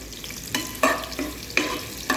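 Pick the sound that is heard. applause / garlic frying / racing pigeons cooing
garlic frying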